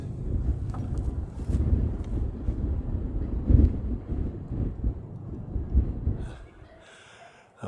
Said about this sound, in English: The wind is really starting to pick up, and it is cold, so cold.